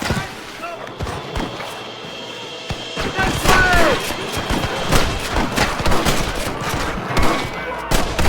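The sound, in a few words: gunfire in Red Dead Redemption video game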